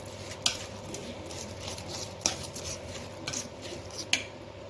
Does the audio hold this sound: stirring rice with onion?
yes